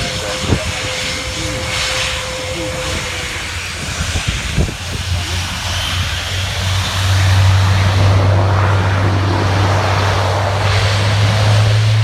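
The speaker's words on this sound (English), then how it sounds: "describing them as now rolling. We have the Airbus A400M, the Atlas." An Airbus A400M Atlas military transport rolling at the RAF Fairford Air Tattoo: a deep turboprop drone builds and grows louder over outdoor ambience, with a few sharp knocks early and a brief tone near the start.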